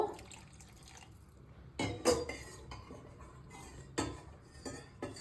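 Soft paneer koftas go one by one into gently simmering water, with a few clinks of a spoon against the pot and small splashes and drips breaking a quiet bubbling background.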